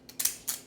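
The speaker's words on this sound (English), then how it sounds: "I cut these with a special scissors that has the edges on it" Special decorative-edge scissors are handled over paper for tea bag folding, making two or three quick, close, crisp snipping and clicking sounds.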